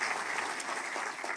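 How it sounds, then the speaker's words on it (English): A brief burst of steady audience applause for Florida Governor Ron DeSantis at a public event, dense clapping throughout with no talk over it. "Let's give another round of applause for Governor DeSantis."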